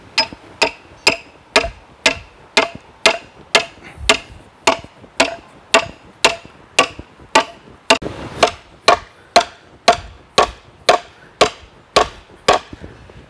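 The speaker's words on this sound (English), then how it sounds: "I'm going to set the rebar. I'm gonna start off with my heavy mallet." Heavy mallet blows drive steel rebar into garden ground, about twenty sharp, evenly spaced strikes at a steady rhythm, close and fairly loud with no talking.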